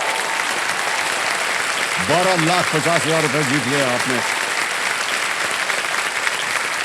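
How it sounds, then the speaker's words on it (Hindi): Studio audience applause on the KBC Season 15 TV quiz show: a steady, dense wash of clapping that fills the whole stretch, with a male host's voice speaking over it in the middle. "एक बार फिर जोरदार तालियां बज जाए उनके लिए"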